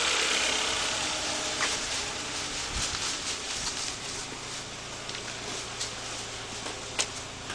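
Volkswagen Beetle engine idling after a head gasket replacement, a steady mid-pitched hum with a faint irregular ticking, heard from nearby without voices.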